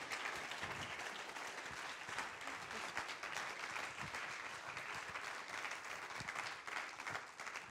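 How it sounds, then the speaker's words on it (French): Audience applause at a French conference on food, a dense, steady roar of many hands clapping that holds at an even level throughout, with no voices heard over it. "je vous prie d'applaudir bien fort Nadia Samut, Olivier Relinger et Mauro Colag"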